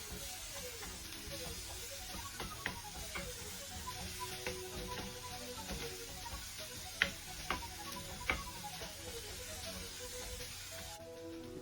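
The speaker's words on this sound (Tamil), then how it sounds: "போட்டுட்டு திரும்ப நல்லா வதக்கி விட்டுக்கோங்க." Bread burji with pepper sautéing in a pan, a soft continuous sizzle with scattered clicks and scrapes of stirring, a few sharper taps standing out midway.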